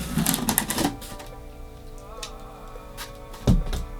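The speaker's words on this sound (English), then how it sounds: "Remember when you cut open the box to always cut away." A box cutter slices open the cardboard box for Yeezy 500 High sneakers, producing a cluster of close scraping and clicking cuts at first and then another sharp crunch later, with quiet room noise in between.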